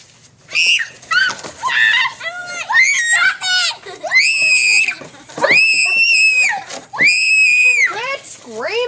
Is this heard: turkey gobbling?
no